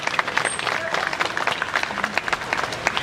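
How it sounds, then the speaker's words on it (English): Audience at Sea World Gold Coast clapping for Gordo, a burst of dense, close applause from a crowd with scattered sharp claps, steady throughout with faint voices mixed in. "Feel free to give Gordo a clap for that too"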